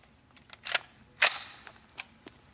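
A rifle fired at a bucket outdoors, heard as a couple of sharp, loud cracks with short tails, plus a few fainter clicks and pops around them.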